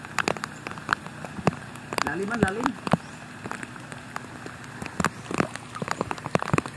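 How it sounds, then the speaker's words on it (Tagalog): Steady heavy rain patters on surfaces close by, with people talking and calling out over it. "malakas na yung ulan"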